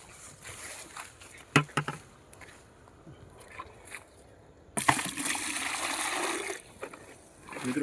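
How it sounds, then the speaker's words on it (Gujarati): Pesticide pours into a water barrel outdoors, with a few sharp splashes early, quieter handling, then a loud sustained gush of liquid for a couple of seconds before it trails off, heard close. "હવે આપણે નાખીશું ઈરની દવા."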